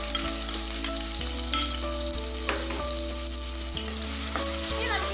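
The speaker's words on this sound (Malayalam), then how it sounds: "ഇനി നമുക്കിതേ ഓയിലിലേക്ക് അരിഞ്ഞു വെച്ച് സവാള ചേർത്ത് കൊടുക്കാം." Sliced onions sizzle in hot oil for a Kerala bitter gourd (pavakka) coconut milk curry: a steady, close frying hiss with occasional sharp stirring clicks and scrapes, and faint tonal hum underneath.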